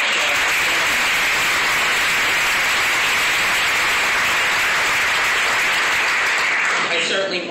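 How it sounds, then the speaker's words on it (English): Sustained, dense audience applause at a Cancer Center opening in Camden, loud and steady throughout before tapering off at the very end. "Let's give Camden a round of applause"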